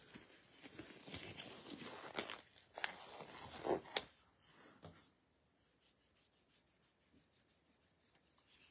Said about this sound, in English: I love to burnish my chrome in with a glove